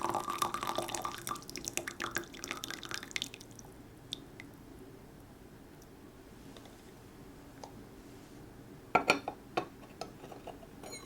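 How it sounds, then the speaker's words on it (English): Tea pours out of a gaiwan with its lid held slightly open into a serving container, giving a close, continuous trickling stream for about three seconds that then tapers into faint drips, followed by a few soft clinks of porcelain near the end. "you would pour the tea out."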